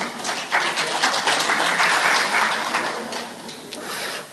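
Seminar audience applauding an introduced speaker, a steady patter of clapping from a room of people that holds for several seconds at a moderate level.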